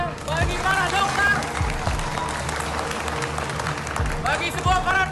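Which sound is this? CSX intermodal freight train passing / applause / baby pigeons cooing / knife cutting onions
applause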